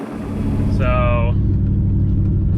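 A 700HP sleeper car launching in first gear with the tires spinning, a loud, close engine roar building into a heavy rumble, with a brief tonal whine near the start and someone talking over it.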